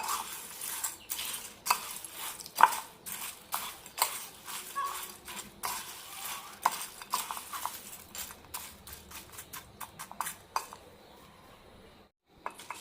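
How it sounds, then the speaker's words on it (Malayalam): A spoon clinks against a bowl while boondi mixture is stirred with Kashmiri chili powder and asafoetida, giving a steady run of close, light taps and scrapes that thin out before a short silence near the end. "ഇതിലേക്കൊരു കാൽ ടീസ്പൂൺ കാശ്മീരി മുളക് പൊടി ഇടാം കുറച്ച് കായം നന്നായി മിക്സ് ചെയ്യാം"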